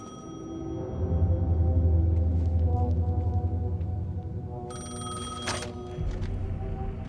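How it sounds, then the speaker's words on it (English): A payphone rings in Alan Wake 2, sounding as repeated electronic bursts over a low droning ambience, loud and close, with a sharp click as the ringing cuts off. "The payphone was ringing."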